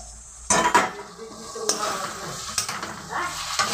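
Eggplant sizzling and frying in fish oil in a pan, stirred with a spoon, with scraping and clinking of utensil against the pan over a steady crackle, close up.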